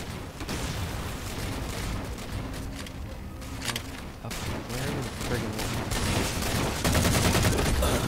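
Sustained gunfire and explosions in the video game Halo 4 pour out in a dense, loud, unbroken barrage of rapid shots and booms that carries through the whole stretch.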